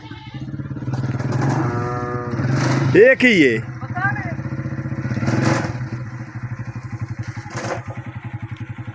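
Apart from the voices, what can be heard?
motorcycle engine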